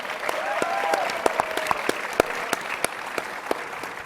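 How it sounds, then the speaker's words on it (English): Applause from the audience at the CPAC 2017 conference, a dense crowd wash punctuated by sharp, distinct nearby claps, with some voices audible underneath. "Can we give a round of applause to CPAC and the ACU?"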